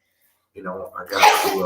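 A single sharp human sneeze bursts out close to the mic, preceded by a moment of casual talk from the same speaker.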